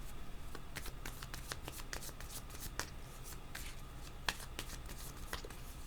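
Playing cards being shuffled and drawn during a military-themed card reading, a steady run of soft papery riffles and flicks with occasional sharper snaps, close and continuous with no talk.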